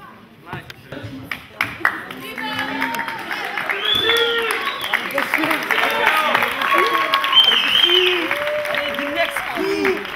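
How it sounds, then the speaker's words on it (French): Audience applause with some cheering for a dance crew at a show in Rabat, steady crowd clapping building and sustained throughout, mixed with voices. "on les applaudit, mesdames et messieurs, The Next Crew"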